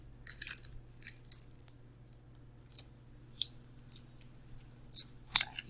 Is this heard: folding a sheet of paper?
yes